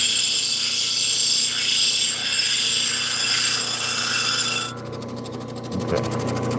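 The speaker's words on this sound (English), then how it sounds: "I am working on an 80 grit wheel, which is taking stuff off pretty quickly and is extremely noisy" An 80 grit grinding wheel shapes a turquoise stone with a loud, continuous abrasive hiss and whir up close, which turns thinner and lighter near the end.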